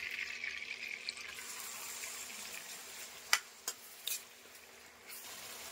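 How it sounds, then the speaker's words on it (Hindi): Finely chopped onions with a bay leaf fry in butter in a pan, giving a steady, fairly faint sizzle, with a few brief clinks and scrapes of stirring near the end. "अभी सिर्फ हम प्याज का डाल रहे हैं और इसको थोड़ा ब्राउन होने तक भूनेंगे।"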